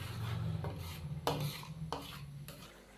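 A spoon stirs yogurt through fish curry masala in a cooking pot, giving soft scraping and clinking against the pan in a few distinct strokes, close and fairly quiet, with no talking.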